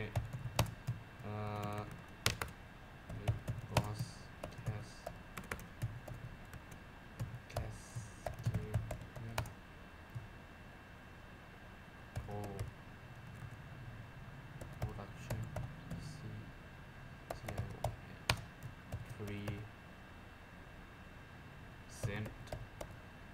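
Quiet computer keyboard typing while entering callout text in Camtasia video-editing software, with irregular soft key clicks in short bursts over a low room hum, and a voice speaking faintly in the background.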